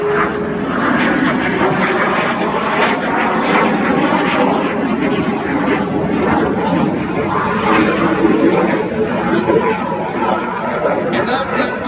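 Frecce Tricolori aerobatic jets at RIAT 2025 climbing at full throttle trailing white smoke: a broad, sustained roar from a distance with airshow crowd chatter and a voice talking over it.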